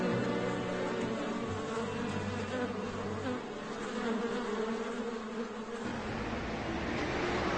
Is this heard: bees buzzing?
yes